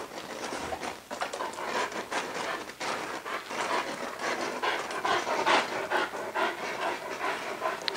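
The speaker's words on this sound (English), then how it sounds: "So here's breathing." A German Shepherd pants hard and steadily at close range, rapid rhythmic breaths continuing throughout, during aggressive-dog training.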